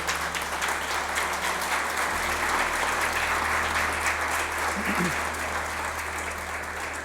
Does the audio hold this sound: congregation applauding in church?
yes